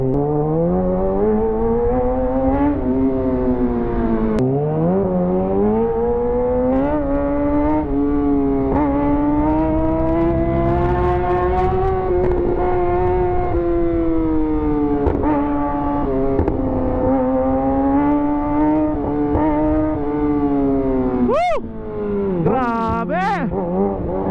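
Kawasaki ZX6R sport motorcycle engine held at high revs, a loud continuous close-up whine that rises and falls, with two sharp revs near the end.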